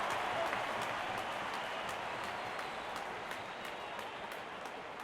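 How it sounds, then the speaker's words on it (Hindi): Cricket stadium crowd applauding a boundary four during an SRH vs GT match, a dense, steady wash of clapping from many fans that fills the whole stretch and eases slightly toward the end. "जब अपोनेंट फैंस भी ताली बजा दे तो समझ जाइए बैटिंग कमाल की हुई है।"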